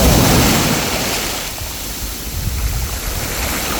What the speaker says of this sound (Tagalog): Tanawin nyo ang mga naglalakihang alon